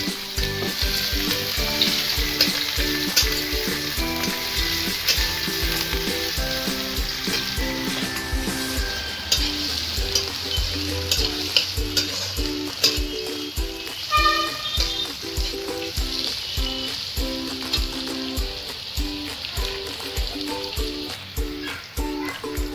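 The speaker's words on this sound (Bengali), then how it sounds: "পেঁয়াজের কুচিগুলো ভালো করে ভেজে নেব।" Chopped onions fry in oil in a pan for Bengali chicken curry, sizzling steadily up close for a long stretch, with a rhythmic pattern of spoon scrapes and stirs throughout.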